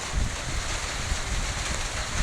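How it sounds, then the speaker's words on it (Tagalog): Strong wind gusting near an open shore, a steady, loud broadband rush with low rumbling buffets against the microphone, and no voices throughout. "Lakas na ng hangin dito."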